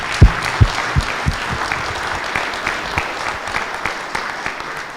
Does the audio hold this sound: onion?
no